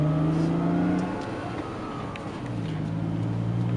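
A tour bus engine hums and revs at close range as the vehicle turns around, with a low drone that dips briefly in the middle and then rises again.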